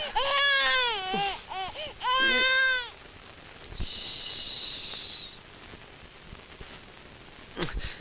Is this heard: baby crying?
yes